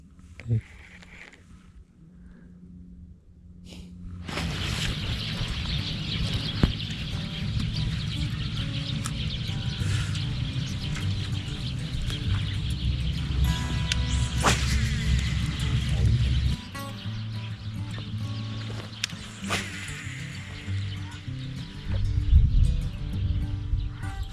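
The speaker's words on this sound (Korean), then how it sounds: "너무 좋지 않나요 새소리" Birds chirp and tweet over a steady outdoor hum on a winter bass fishing trip, with short calls scattered across the recording and a low rumbling background.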